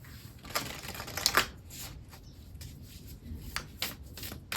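A Moonology Oracle card deck being shuffled, with a run of soft, close papery riffles and flicks, two brief louder bursts early on, in a quiet room.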